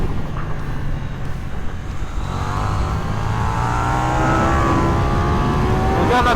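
A 2026 KTM 990 RC R sport motorcycle engine roars continuously on a track, loud and close, with pitch climbing and falling through gear shifts under full throttle into a blind corner.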